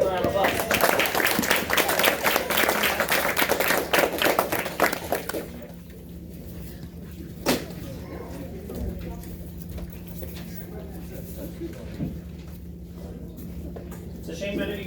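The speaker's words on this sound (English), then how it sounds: "Let's give him a round of applause." An audience at a martial arts belt test night claps together for a promoted student, dense applause for about five seconds before it cuts off, leaving a quiet room with a few stray sounds.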